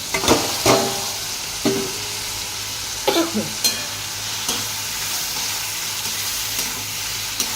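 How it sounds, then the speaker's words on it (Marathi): Tomatoes and chilies, with turmeric and salt added, fry in a pan with a steady hiss, while a spoon scrapes and knocks against the pan in scattered strokes. "ते टमॅटो फ्राय करायचा टाकायचा"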